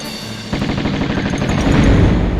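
Rapid gunfire in the classic video game Tomb Raider, a dense run of sharp automatic shots that starts abruptly and keeps going, loud and close, with no talking over it.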